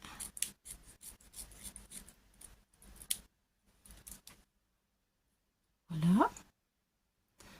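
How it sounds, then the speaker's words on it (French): Scissors snip through paper in a series of short, close cuts during a UV resin embellishment craft session, followed by quiet pauses and a brief sharp sound near the end. "je vais la découper un petit peu, parce que le papier va me gêner"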